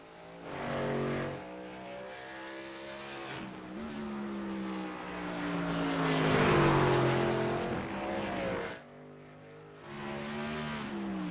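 A race car engine in a video game racing sim at Sonoma swells and fades as it passes through the S-bends, pitch climbing and dropping through gear changes, loudest midway and briefly cutting out near the end.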